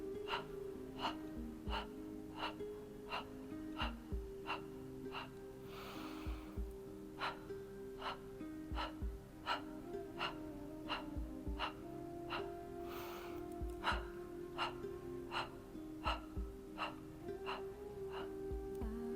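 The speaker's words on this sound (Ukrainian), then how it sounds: "Глибокий вдих через ніс і 8 видихів через рот." Rapid breathing exercise: one deep inhale through the nose followed by a series of forceful, rhythmic exhales through a rounded mouth, repeating steadily and close up with a constant low hum underneath.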